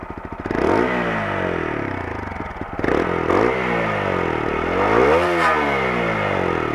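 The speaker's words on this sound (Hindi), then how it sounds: "और इस बाइक के एग्जॉस्ट नोट की तरफ चलता है" A 2021 TVS Apache RTR 160 4V BS6 motorcycle of 160cc idles with a throbbing exhaust, then is revved several times, its note sweeping up and down in loud, close blips with a faint mechanical clatter underneath.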